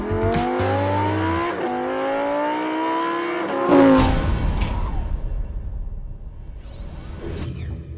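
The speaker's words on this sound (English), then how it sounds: "we're at the Throttle House test track for a drag race" A Mazda3 Turbo, Golf R and Subaru WRX drag race on a test track, engines revving hard through rising gear pulls, then roaring past with a whoosh and fading into the distance.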